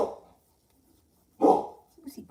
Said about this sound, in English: Who's he barking at?